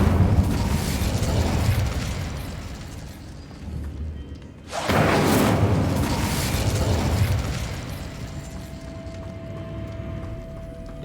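Incendio fire spell setting things alight in Hogwarts Legacy: a sustained roaring, crackling burn that briefly drops out and then surges again with a fresh fiery blast, loud and continuous over the game's background.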